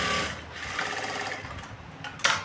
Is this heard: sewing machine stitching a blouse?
yes